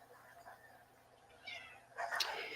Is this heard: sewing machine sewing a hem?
no